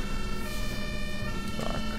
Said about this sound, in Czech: tady nám jede hasičský auto